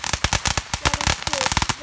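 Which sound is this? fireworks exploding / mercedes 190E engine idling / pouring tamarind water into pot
fireworks exploding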